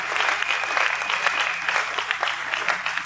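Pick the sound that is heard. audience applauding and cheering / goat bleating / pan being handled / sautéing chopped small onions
audience applauding and cheering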